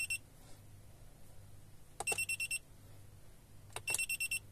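An electronic airsoft game timer emits two short bursts of rapid high beeps, each a quick string of pulses, with a quiet pause between them and no talk.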